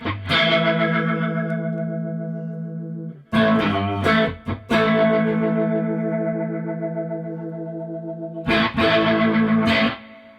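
A Strymon Lex V2 rotary speaker pedal swirls over sustained electric instrument chords, a thick, warbling, chorus-like rotating tone with slight grit, ringing in long held stretches separated by brief breaks and re-struck chords.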